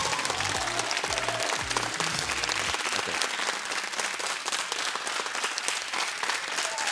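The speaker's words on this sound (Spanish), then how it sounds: "a él sí le aplauden" Studio audience applauding on a Spanish late-night TV talk show, a dense, steady wash of clapping that fills the whole stretch at close, even loudness with no talk over it.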